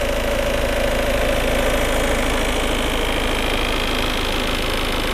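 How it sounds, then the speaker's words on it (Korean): A Ford Mondeo fourth generation with a 2.0 engine idles steadily, giving a loud, even hum and rumble that holds constant for several seconds with no voices over it. "엔진 소리도 일정하네요."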